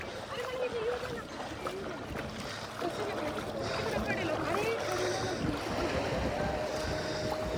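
A boat rocks on the water at Malvan before a scuba dive, with a steady wash of water and wind, a low motor rumble and indistinct voices talking nearby.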